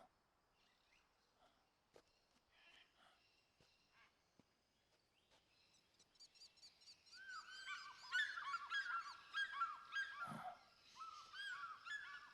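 Raiden from Metal Gear Solid 4 making goose-like honks in a video game: quiet scattered sounds at first, then a loud run of repeated nasal honking calls building toward the end, with no other talk.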